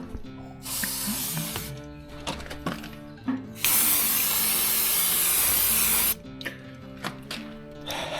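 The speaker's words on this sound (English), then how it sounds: "I think we can get a bit liberal with the old penetrating oil, see if we can loosen up some of these bolts" Penetrating oil is sprayed on seized bolts of a 1941 Chevy in short hissing bursts, then one long steady spray of several seconds, close up amid light mechanical clatter, with no speech.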